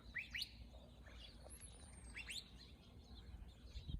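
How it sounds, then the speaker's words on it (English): Sharp rising whistled calls of a curve-billed thrasher, two quick pairs repeated, over a quiet Arizona backyard background with faint distant chirps. "You can hear the curve-billed thrasher, the weep weep, weep weep."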